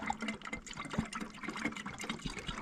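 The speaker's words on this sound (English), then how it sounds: "See how this one's glug glug glug glug because I'm not holding it upside down." Engine coolant poured from a plastic jug into a Duramax diesel's cooling system, glugging and splashing continuously in irregular gulps, close and moderately loud with no talking.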